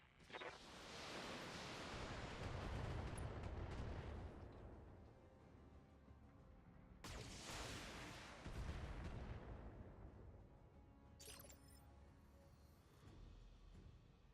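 Mech weapons fire in the BattleTech video game: heavy booming blasts with rumbling low-end barrages that swell and fade in waves, a second big volley hitting midway, with no talking.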